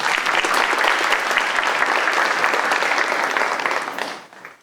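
A crowd at a youth career program graduation ceremony applauds loudly and steadily for a congressman, a thick wash of clapping that holds for several seconds before fading quickly at the end.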